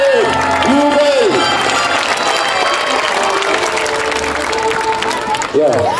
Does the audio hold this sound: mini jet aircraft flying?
no